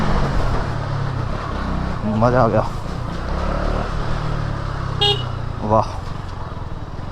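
A motorcycle rides along a road with a low engine drone running throughout, nearly buried under excited voices and cheering, and a brief horn-like toot partway through.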